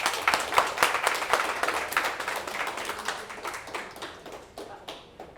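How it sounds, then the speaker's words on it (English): A round of applause from an audience at a yachting industry talk on mental health, brisk dense clapping that starts strong and gradually thins and fades out toward the end. "Captain Kelly, a round of applause."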